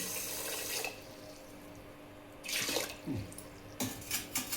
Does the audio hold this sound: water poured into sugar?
yes